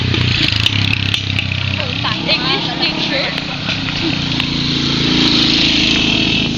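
Neighborhood motorcycles rumble past with engine drone rising and falling over several seconds, while people talk loudly in the foreground.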